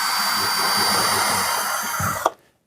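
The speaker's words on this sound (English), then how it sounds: "reverse the screw out" A cordless power drill runs in reverse to back a screw out of a ceiling-mounted curtain track bracket, its motor whining steadily and close before a brief rattle and an abrupt stop into silence.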